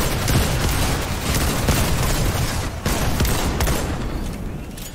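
Dense, loud barrage of booming shots and blasts as a grenade launcher fires in a video game, a continuous wash of explosive fire that briefly dips near the middle before carrying on.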